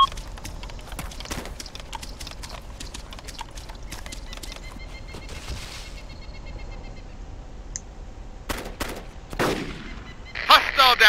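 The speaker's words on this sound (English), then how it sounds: "Enemy machine gun to our front," Bursts of machine gun fire in the military shooter Arma 2, sharp repeated cracks scattered through the stretch at moderate distance, with heavier close bursts near the end over steady background battle noise.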